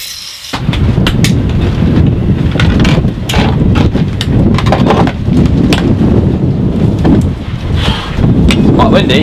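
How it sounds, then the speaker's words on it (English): Strong wind at an exposed Australian boatbuilding site buffets the microphone with loud, continuous low rumbling and gusty roar, broken by brief clattering knocks and tapping; a person speaks briefly under the noise. "Quite windy. Very windy."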